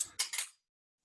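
Scissors give two or three quick, close snips while trimming the threads of a tassel bookmark, and then it goes silent.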